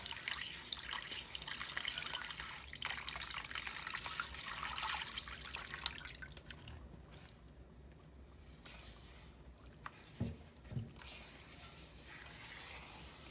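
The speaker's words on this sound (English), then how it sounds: "now I'm going to add the liquid to the dry ingredients, the sugar, the salt, and the yeast" Liquid is poured into a bowl of dry bread ingredients (sugar, salt and yeast) for Easter bread, a soft continuous splashing that thins out, followed by a couple of faint knocks near the end.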